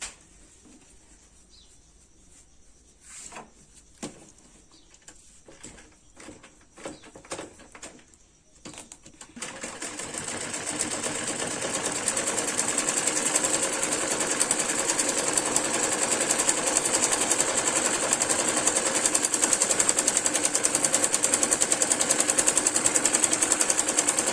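Sewing machine stitching a patiala salwar seam diagonally, a few short start-stop bursts at first, then a continuous loud whirring run that builds and holds to the end.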